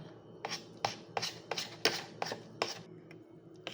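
Pancake batter is whisked in a bowl at a quick, steady rhythm, about nine distinct soft knocking strokes close up with no talking.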